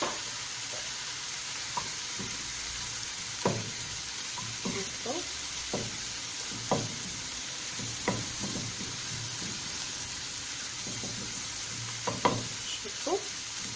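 Chicken kefta filling fries in a pan, a constant close sizzle punctuated by repeated spatula scrapes and taps at an uneven pace.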